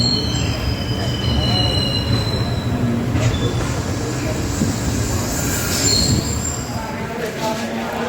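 The Hussain Sagar Express rumbles loudly close by, arriving at Hyderabad Deccan Nampally station, with wheels squealing against the rails over a continuous heavy roar as it rolls along.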